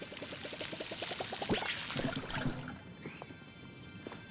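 Watering crops in Palia, a splashing pour of water from a can after a quick rising series of plinking chimes, followed by softer sparkly tones fading out.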